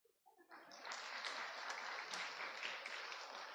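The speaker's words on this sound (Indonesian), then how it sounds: "Masa tepuk tangan perlu disuruh tepuk tangan?" Church congregation applauding during a sermon, a burst of claps building quickly to steady, sustained clapping from a crowd, fairly faint and distant.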